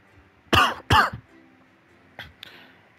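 A person recovering from COVID coughs twice in quick succession, loud and close, then clears the throat with two shorter, quieter rasps.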